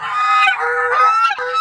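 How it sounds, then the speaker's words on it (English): Geese in a pen on an icy day honking continuously and loudly up close, overlapping calls filling the moment with no talk. "let's go feed these noisy geese"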